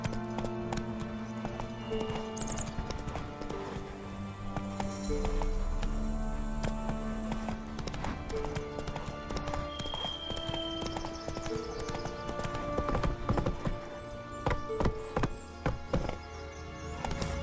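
Horse hooves clip-clop at a steady gallop in the video game Witcher 3, with a continuous rhythmic beat over layered game music and ambience, plus an occasional faint whinny.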